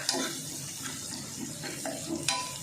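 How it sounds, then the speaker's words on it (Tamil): Food frying in a pan until browned, a quiet, even sizzle with faint scraping and a few soft clicks of a utensil, no voices. "இது நல்லா ப்ரௌனிஷ் ஆகிற வரைக்கும் ஃப்ரை பண்ணலாம்"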